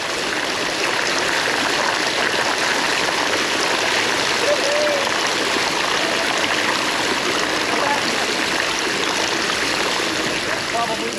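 Bicycle ridden through a shallow river crossing on a road ride, with a loud, continuous wash of rushing, splashing water filling the scene throughout.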